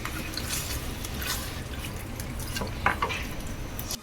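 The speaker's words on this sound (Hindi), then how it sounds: "चिकन को भी अच्छे से फ्राई कर लेना है 2 से 3 मिनट के लिए" Half a kilo of chicken fries and is stirred in bhuna masala in a pan, a steady sizzle with scraping stir strokes and a few light clinks of utensil against metal.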